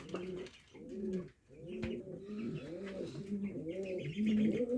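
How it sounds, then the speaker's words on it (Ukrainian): Young pigeons in a village loft coo in soft repeated throaty phrases, close and fairly quiet, with a few faint chirps and a brief knock between calls. "Такі голубята."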